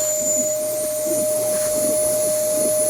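A vacuum cleaner runs steadily on a patch of fabric during a pre-test of fabric and carpet, giving a continuous airy roar with a constant high whine and a faint rhythmic scrubbing underneath.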